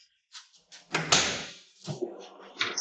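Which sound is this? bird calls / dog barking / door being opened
door being opened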